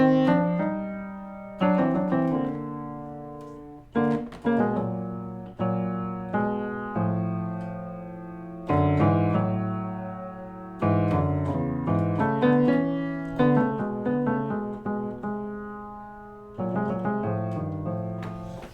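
A gentle piano melody harmonized a sixth below, played as a series of rising and falling phrases with chords ringing between them.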